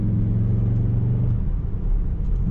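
Cupra Formentor 310HP in Cupra mode with manual shifting, its engine giving a steady deep rumble up close, a low droning idle-like tone that dips slightly midway and swells again toward the end, with no talking.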